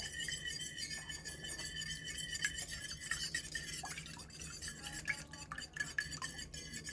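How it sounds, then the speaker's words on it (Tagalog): Fresh milk and an egg are whisked together in a bowl with a continuous, faint clinking and scraping of utensil on the bowl. "Let's crack our egg. Let's mix it."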